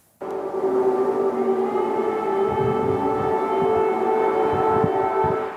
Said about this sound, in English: Air raid sirens are nothing new for the residents of Kyiv